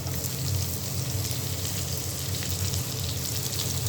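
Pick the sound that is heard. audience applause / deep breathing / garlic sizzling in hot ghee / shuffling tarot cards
garlic sizzling in hot ghee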